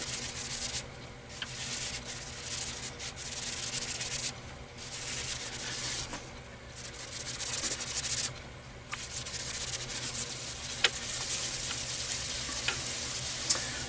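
Sandpaper rubbing the inside of an almond wood calabash bowl turning on a lathe at slow speed, a continuous gritty scratching that rises and falls in strokes with brief pauses.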